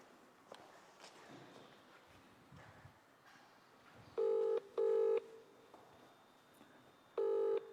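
A telephone being dialed to call someone, three loud steady electronic tones in short separate beeps standing out above a faint room background with light shuffling and movement.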